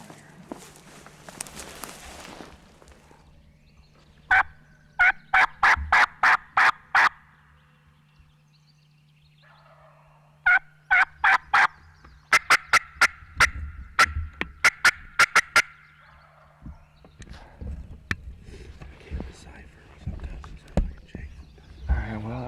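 A wild Osceola turkey gobbles on public land during a hunt, several loud rattling bursts in repeated runs, with hunters talking quietly and footsteps shuffling between them.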